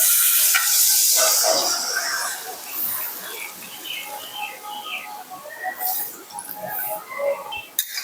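Mutton kasa sizzles in a pan, with a loud hissing burst at the start as water is poured in, then a softer bubbling sizzle and occasional stirring clinks up close.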